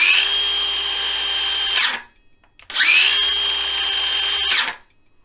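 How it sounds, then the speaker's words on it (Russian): A Makita DCS551 cordless metal-cutting circular saw whirs up twice, each run a loud high-pitched whine lasting about two seconds before braking to a stop, with a short pause between. "Для включения пилы нужно нажать защитный рычаг, то есть снять блокировку, включить, и пила включится."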